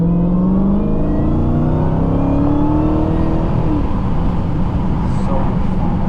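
A Dodge Challenger Hellcat Redeye widebody accelerates hard, heard from inside the cabin. A loud continuous engine roar carries a rising supercharger whine that climbs steadily in pitch.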